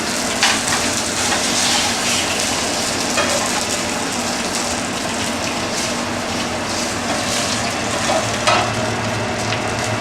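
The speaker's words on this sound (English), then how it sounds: "We've got our chicken cooking and I just turned it over" Skin-on chicken pieces browning in a hot pan give a loud, steady sizzle with crackling pops throughout, close and continuous with no talking.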